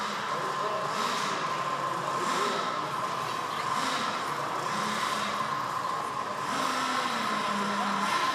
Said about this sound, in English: Another Nitro fired up in the box back there,